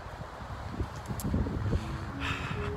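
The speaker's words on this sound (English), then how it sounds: "It's windy." Gusting wind at a Lake Tahoe cabin buffets the microphone with a low, steady rumble, rising slightly in strength toward the end.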